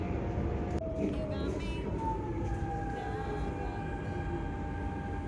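A Nanjing metro train running underway, heard from inside the carriage as a steady, loud rumble with rising and falling whining tones and a brief clank near the start, lasting throughout with no talk.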